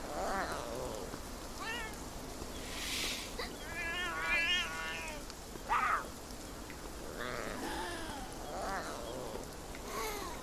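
Several cats in a game world meow and yowl in turn, rising, wavering cries spaced across the stretch, some drawn out like caterwauls, over a soft ambient background.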